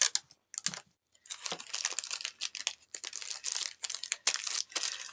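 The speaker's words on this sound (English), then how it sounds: "We're going to tape them together." Clear tape is pulled, torn and pressed onto foil-wrapped Reese's peanut butter cups for an Easter basket craft, giving close, crisp crinkling, ripping and tapping sounds in quick irregular bursts separated by short silences.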